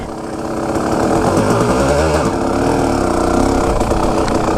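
A KX250 dirt bike engine being ridden on a wooded trail, a loud, steady two-stroke buzz running throughout with slight swells in revs and no break.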